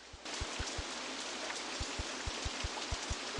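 Rain falling in the theme-park game OpenRCT2: a steady, even hiss that starts just after the opening and continues throughout, with soft regular low thuds beneath it.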